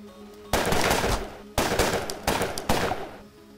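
AK rifle fire in the video game Cortex Command: three loud bursts of automatic shots, each starting sharply and tailing off, separated by brief pauses, with no talking.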